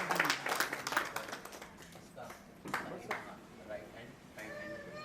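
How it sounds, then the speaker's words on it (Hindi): An audience claps to welcome a man onto a stage, with scattered hand claps rising in short bursts amid ongoing talk and crowd noise. "ताली बजाकर इनका स्वागत करते"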